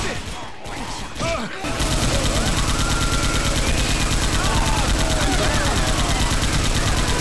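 Dense, continuous automatic gunfire from the zombie shooter game Left 4 Dead 2, loud and sustained after a brief quieter opening, with a player's voice shouting over the din.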